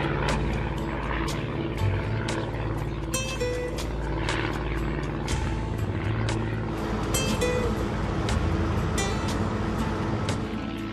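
A small propeller plane flies along the Maine coast past hills and islands, its engine drone steady and loud from inside the cabin, with a few brief rattles and clicks.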